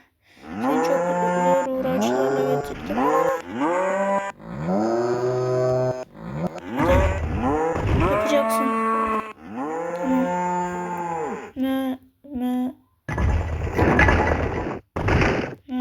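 Cattle moo repeatedly and loudly at close range, long drawn-out calls one after another, with a few sharp knocks and rustling near the end.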